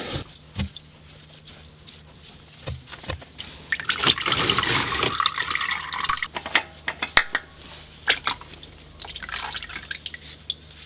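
Engine oil drains from the oil filter housing and sump of an Opel, a close, irregular patter of drips and trickles with a brief steadier pouring stretch in the middle, against a quiet low hum.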